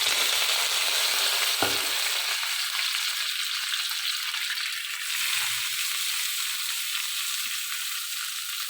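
Cowpea leaves frying in a pan, with a steady broadband sizzle throughout and a few scraping stirs, one sharp knock near the start. No one speaks.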